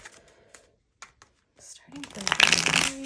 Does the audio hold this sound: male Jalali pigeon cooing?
no